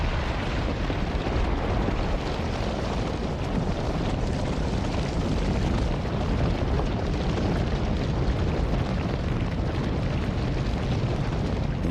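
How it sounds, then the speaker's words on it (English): Etna volcano erupting, with continuous roaring explosive blasts forming a dense, loud, unbroken rumble that hardly varies. "The force of the explosions is so powerful that blocks the size of cars"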